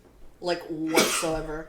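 A single close, sharp human sneeze, brief and loud, with a voice speaking just before it.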